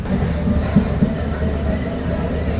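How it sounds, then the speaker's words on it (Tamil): Passenger train picking up speed through rain on a Jaffna line, heard from aboard: a steady low rumble of wheels on track with faint periodic clicks and thumps. "ட்ரெயின் ஸ்பீடாக போக வெளிக்கிட்டுது"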